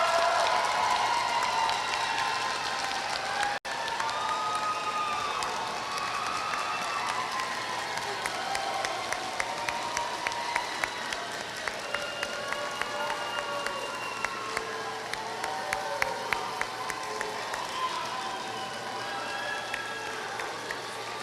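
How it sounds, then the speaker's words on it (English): A convocation crowd in Prince Albert applauds and cheers its graduates, steady dense clapping sustained for about twenty seconds with a brief dip early on, voices mixed into the clamor. "round of applause for our graduates"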